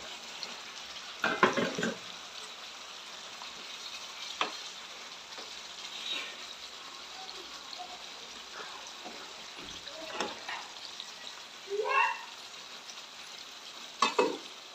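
Fish pieces fry in oil in a pan, a soft continuous sizzle broken by occasional scrapes and stirring clatters, heard close and fairly quiet with no talk.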